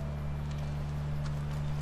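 Horse hooves clip-clop in a soft, steady rhythm of light, evenly spaced knocks over a constant low hum, fairly faint in the background.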